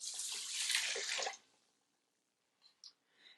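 Water from a container splashes into an Instant Pot holding steel cut oats, a close, steady pour lasting about a second and a half before it stops, followed by a few faint clinks.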